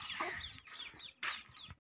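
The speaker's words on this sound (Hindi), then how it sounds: "मुर्गी कबूतर के पीछे लग गई है इन्हें" A hen clucks while chasing pigeons, giving a quick series of close, loud, agitated clucks and squawks with a brief pause between bursts.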